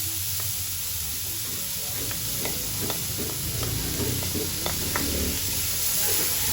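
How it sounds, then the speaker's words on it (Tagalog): Lots of chopped onions sizzling in a pan, a loud steady hiss overlaid with repeated rhythmic scrapes and clacks of a spoon stirring them. "ilalagay ko na itong sibuyas. Ayan, napakadaming sibuyas"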